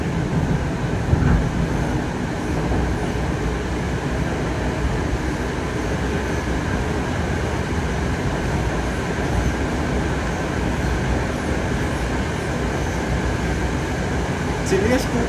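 A Moscow 2019 metro train runs on Moscow's Big Circle Line, its steady interior rumble and ventilation hum continuous throughout, with faint rail clatter and a few brief squeaks near the end.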